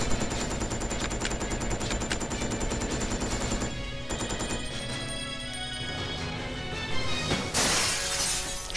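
Gunfire and shattering from the video game Resident Evil Code Veronica X, a dense, loud run of rapid shots and breaking glass with a busy game soundtrack underneath.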